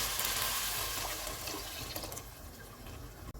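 About three and a half cups of water pour into a pot of keema matar pulao in a loud, close, continuous splashing rush that slowly fades, ending in a brief knock.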